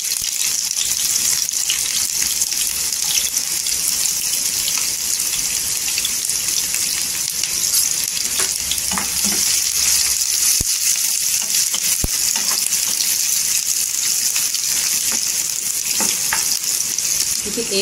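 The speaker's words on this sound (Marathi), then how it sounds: "इथे तेल 1 चमचा टाकलेला आहे, तर अख्खा गरम मसाला टाकायचा आणि इथे 1 ते 2 कांदे आहेत कट केलेले" Whole garam masala and chopped onions frying in a spoonful of oil, a steady loud sizzle that runs unbroken from start to finish with faint stirring clicks partway through.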